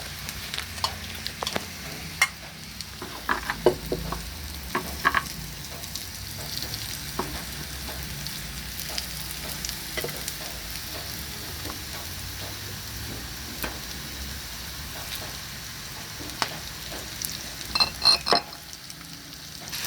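Corned beef and potatoes that have stuck a little fry with a loud, continuous sizzle, while a utensil stirs and scrapes the pan in repeated taps and clatters.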